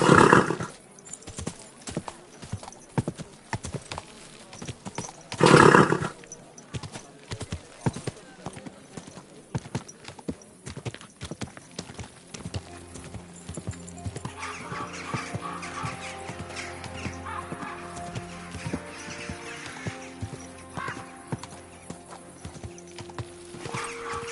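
Hooves of a horse clip-clop steadily in Kingdom Come Deliverance 2, with a couple of loud bursts early and a whinny, while people talk and a droning musical background rises later.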